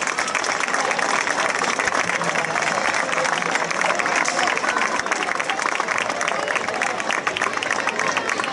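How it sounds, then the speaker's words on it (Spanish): Applause for a maid of honour called to the stage at a town festival proclamation in Hoya del Campo, a dense, loud burst of crowd clapping sustained for several seconds with voices mixed in. "Un fuerte aplauso para ella."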